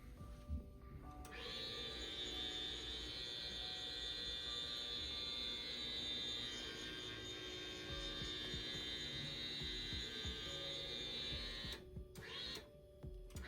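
APQS longarm quilting machine advancing along its track, a faint, steady whine with a hum beneath that runs continuously for about ten seconds before stopping.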